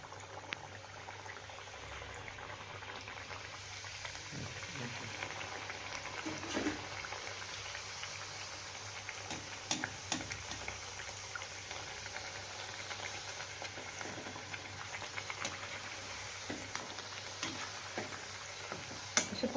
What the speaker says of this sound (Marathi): आता आपण या पापड्या तळून घेऊया